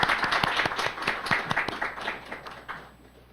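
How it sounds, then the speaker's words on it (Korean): An audience applauds the speakers at a panel discussion session, a dense burst of clapping that fades out over a few seconds. "발표하신 분에게는 좀 수고했다는 좀 박수 우선 좀 부탁드리고 시작하도록 하겠습니다"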